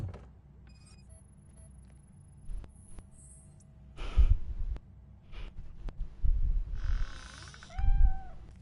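A cat in the video game Robocop Rogue City gives a few short meows among quiet game ambience and faint electronic tones, with a clear meow near the end.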